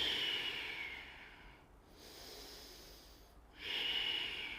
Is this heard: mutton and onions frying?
no